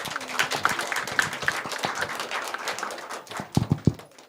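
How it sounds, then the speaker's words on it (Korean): Congratulatory clapping from a congregation at a Sunday church service, scattered hand claps of moderate loudness with a few sharper, closer claps near the end. "우리 다민이에게 축하의 박수를 하겠습니다"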